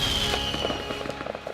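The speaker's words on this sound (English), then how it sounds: "Fireworks." Fireworks sound effect: a dense burst of crackling pops and bangs that starts loud and thins out over a second and a half, with scattered sharp snaps fading toward the end.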